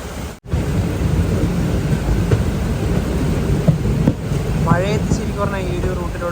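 Rain and rushing wind roar steadily outside a moving train on the Ernakulam to Velankanni Biweekly Express, a loud continuous wash with a voice speaking near the end.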